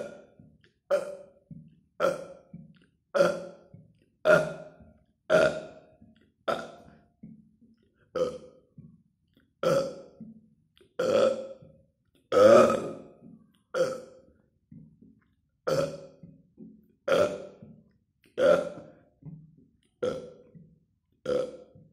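Loud, repeated burps in a steady series, about sixteen distinct belches spaced a second or so apart, each a rough, resonant gulp standing alone with no talking between them.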